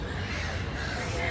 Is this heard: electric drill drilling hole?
no